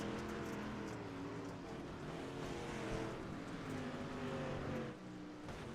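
Street stock race cars on an asphalt track during a race, heard as a steady, fairly faint drone of engines running together at a distance without a clear single pass.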